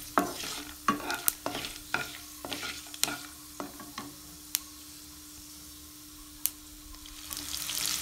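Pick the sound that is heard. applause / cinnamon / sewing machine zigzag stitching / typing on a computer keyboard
cinnamon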